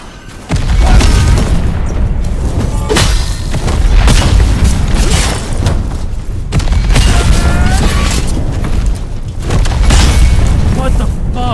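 Gunfire and explosions in the video game Enotria: The Last Song, deep booming blasts recurring steadily over the clip, loud and dense, with a voice talking through it.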